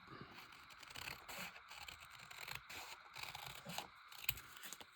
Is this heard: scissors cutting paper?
yes